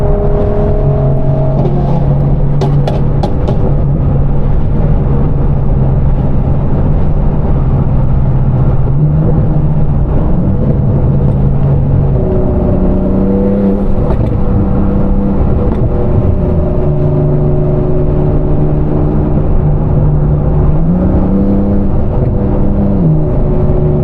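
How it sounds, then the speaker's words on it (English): A 1,000 hp turbocharged Audi R8 with an F1-style exhaust drones loud and close through long pulls, its engine note rising and dropping with gear changes and turbo flutter between shifts. "You guys can hear that turbo flutter though."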